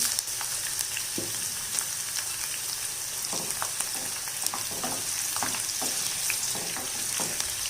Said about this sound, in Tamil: 20 பல், அதை சேர்த்துக்கிறேன். பூண்டு கொஞ்சம் செவந்து வரட்டும்.